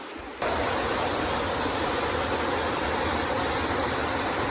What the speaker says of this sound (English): The river's beautiful.